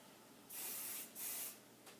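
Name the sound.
hairspray being sprayed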